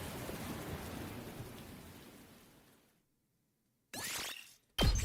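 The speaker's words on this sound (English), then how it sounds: "the sound of the rain pouring down" Steady rain pours down in the video game The Hundred Line, a dense hiss that fades to silence, then returns in two short bursts near the end.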